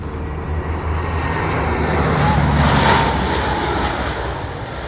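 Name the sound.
airplane landing at Kuantan air base open day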